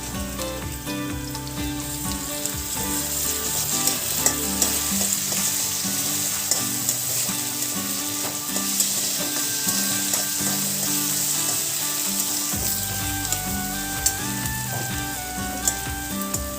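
Onion and tomato fry in a pan for a fenugreek-leaf dish, a constant close sizzle under repeated light scrapes and taps of stirring, with a tonal hum running beneath and no speech.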